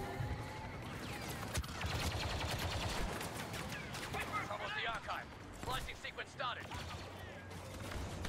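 Gunfire in a PS4 shooter game comes as dense, rapid bursts of shots, mid-distance and fairly loud, with a voice talking over parts of it.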